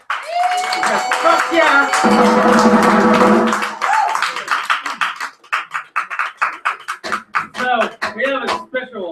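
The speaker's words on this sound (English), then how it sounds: "I'd like to give a big round of applause to all of the performers tonight." Audience applause and cheering for the performers at a poetry night: a loud burst of crowd noise and clapping, then scattered sharp claps with a voice shouting over them.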